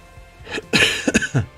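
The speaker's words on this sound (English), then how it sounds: "Sorry for the coughing" A few sharp coughs in quick succession, close and fairly loud.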